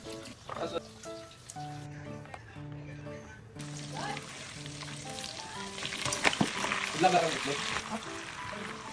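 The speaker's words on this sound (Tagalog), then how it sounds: "dahil naigisa na ng maigi yung sausage" Sausage sautés in a pan with a soft crackle that grows into a fuller, louder sizzle in the latter half; tonal, voice-like sounds ring over the cooking early on.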